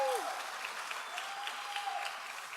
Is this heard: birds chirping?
no